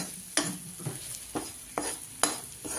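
A spoon scrapes and stirs ground coriander and spices in a hot pan at a steady rhythm, each stroke over a constant sizzle of frying.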